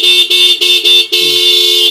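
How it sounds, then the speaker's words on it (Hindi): A Minda D70 horn fitted to a TVS Raider 125 motorcycle blares loudly and close, first in four short rapid honks, then one longer sustained blast. "ये इसके अंदर हॉर्न है जो कि लगा दिए गए हैं मिंडा D70 के हॉर्न"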